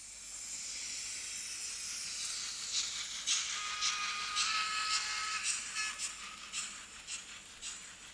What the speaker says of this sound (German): Ja, auch der Klang von der Diesel, von der Dampflok ist nicht so ganz der Hit.